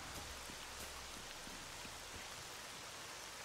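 Rain falls steadily in the video game STALKER: Shadow of Chernobyl, a soft, even hiss with scattered drop patters throughout and no voices.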